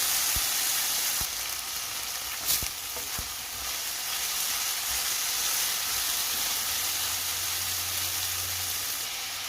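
Garlic and tomato fry in a pan with a continuous bright sizzle and hiss. A few sharp clicks and stirring knocks break in near the start, and the sound is close and steady throughout with no talking.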